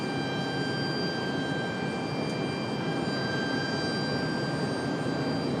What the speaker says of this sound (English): So we get JetBlue ready for departure. This one back to San Juan, Puerto Rico.